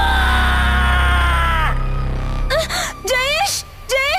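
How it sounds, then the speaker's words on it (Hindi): A monster in a Hindi horror story screams loudly just after a sustained musical tone cuts off, letting out a series of close, wavering, high-pitched shrieks that rise and fall in quick succession. "गाना बंद होने की वजह से मुंजिया एकदम जोर से चीखता है"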